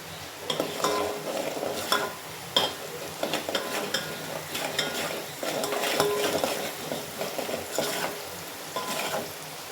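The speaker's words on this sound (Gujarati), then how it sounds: "થોડી વાર આપણે આ રીતે ડુંગળીને સાતળી લેવાની છે ધીમા તાપે જ." Onion sautéing on a low flame while being stirred: a soft, steady sizzle broken by frequent clinks and scrapes of a metal spoon against the pan, close up and without speech.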